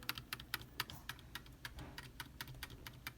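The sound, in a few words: pressing escape key on computer keyboard repeatedly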